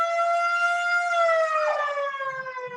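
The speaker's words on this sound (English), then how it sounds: "We have an ambulance out here." Ambulance siren passing outside, a loud, sustained wailing tone that slowly falls in pitch as it goes by, heard alone.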